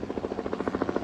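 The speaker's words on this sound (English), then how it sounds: "there's a helicopter" Helicopter passing overhead on a university campus, its steady rhythmic rotor chop filling a full second at close, loud range with no talk over it.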